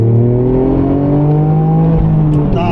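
A Toyota GR Yaris with an aftermarket exhaust drones loudly and steadily, its engine note rising gradually as it revs on the track, heard close and continuous throughout.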